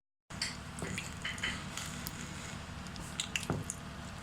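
Gulab jamun dough balls slip into lightly warm oil, giving soft wet squishes and faint drips over a low steady background, with a couple of small splashy bumps near the end and no talking.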